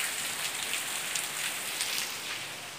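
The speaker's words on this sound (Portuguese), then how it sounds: "E olha a chuva que tá caindo aqui fora." Steady rain falling outdoors during a living-room cleaning, a continuous hiss of drops on surfaces heard close and even throughout, with no voices.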